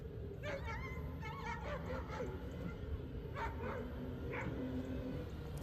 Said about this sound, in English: my family's dog barking from much further off in the distance